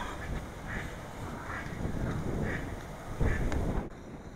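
A mallard duck and her ducklings call in strong wind, a few brief quacks and peeps spaced irregularly and fairly faint under steady microphone wind rumble.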